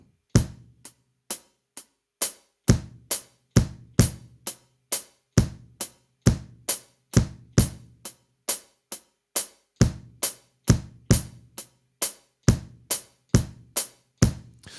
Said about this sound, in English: if we're doing just the hi-hats and the bass drums, it will sound like this